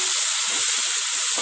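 Tomato pieces fry in a hot pan with a loud, continuous sizzle and hiss, close up and alone throughout.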